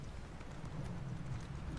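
Horse hooves clip-clop in The Elder Scrolls Online as a pale horse is ridden, a faint, steady rhythmic trot under soft background ambience.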